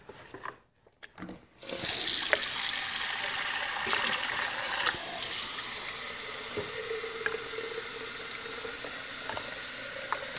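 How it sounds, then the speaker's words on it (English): After a few soft knocks, water for injera batter gushes steadily from a tap into a pitcher, a close, continuous rushing stream that holds evenly to the end. "So I'm gonna add, once again, a little more water."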